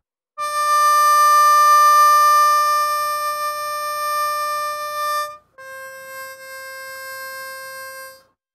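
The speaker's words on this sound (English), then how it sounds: "this is the single note. That's a four blow, four draw." Harmonica playing clean single notes on hole four: a loud sustained blow note for about five seconds, then a brief gap and a slightly lower sustained draw note, both steady and alone without talk.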